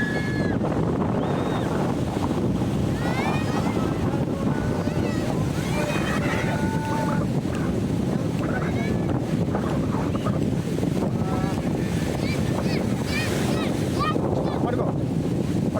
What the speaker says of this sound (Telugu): అదో సముద్రం అండి